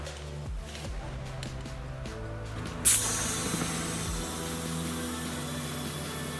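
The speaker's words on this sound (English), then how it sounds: "pop the core back in and add some pressure" Compressed air hissing into a dirt bike tire to seat the bead, a sudden loud burst of hiss that then settles into a steady hiss.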